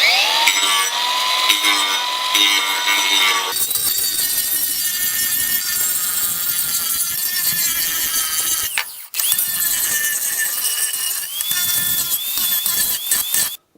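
A power tool grinds hard into a beautiful wood slab to strip a stubborn coating, a loud continuous abrasive whine with a steady rasp that briefly drops out near the nine-second mark and then resumes.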